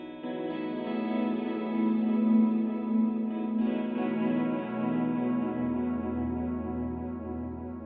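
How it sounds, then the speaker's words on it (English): An electric guitar rings out with heavy reverb and echo. Long sustained chords wash and blend into each other, and they fade and shift slightly partway through, steady and fairly loud with no voices. "More reverb."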